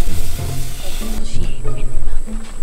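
Food sizzles on a grill during an outdoor cookoff, a loud, steady frying hiss with crackles that runs throughout, close and unbroken.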